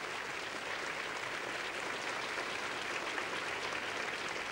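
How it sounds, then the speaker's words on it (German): Sustained applause from an audience after a ballet performance in Vienna, a dense, steady wash of clapping with a few cheers, continuous and even throughout. "Und noch einmal Applaus und Juhu-Rufe"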